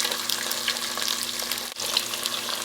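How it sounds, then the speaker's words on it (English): Curry chicken pieces frying in a pot, a steady close sizzle and crackle with bright spattering pops throughout and a brief dip near the end, no talk. "I start frying pieces of curry chicken"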